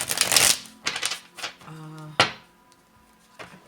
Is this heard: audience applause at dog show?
no